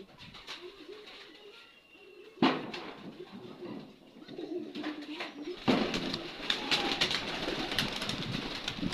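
Pigeons coo in a loft, low warbling calls repeating under intermittent knocks and rustling, with louder clatter later as activity picks up nearby.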